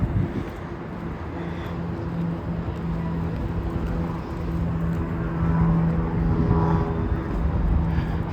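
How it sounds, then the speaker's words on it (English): An airplane passes overhead on a city stroll toward the CN Tower as a broad, steady rumble with a faint droning tone, mixed with gusts of wind buffeting the microphone and growing slightly louder near the end. "Here's some plane overhead."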